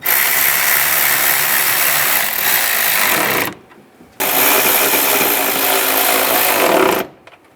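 A ratchet tightens radiator bolts on a 2011-2018 Ram 1500, heard as two loud, steady bursts of rapid mechanical clicking, each about three seconds long, separated by a short pause, with no talk.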